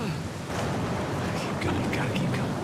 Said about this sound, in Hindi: ये बारिश ने तो अच्छा खासा रोक दिया है